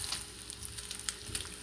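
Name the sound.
bread filling frying in a pan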